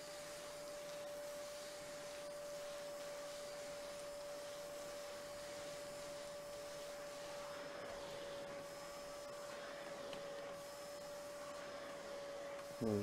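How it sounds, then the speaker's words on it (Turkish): Vacuum cleaner in Ship Graveyard Simulator running steadily, a constant whining hum with a fixed tone, moderately loud and unbroken, ending with a brief bump. "Çek süpürgeyi."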